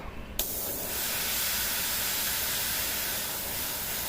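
An airbrush sprays paint onto a Tech Priest Enginseer tabletop miniature, giving a steady, close, continuous hiss that starts abruptly and holds at an even level with no talking.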